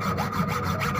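Hand saw rasping through a metal bracket held in a vise, a steady back-and-forth scraping with even strokes, close and alone.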